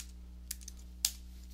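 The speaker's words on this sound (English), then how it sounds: "So I'll go ahead and type in my credentials." Login credentials are typed on a computer keyboard: two or three faint, isolated key clicks over a quiet room hum.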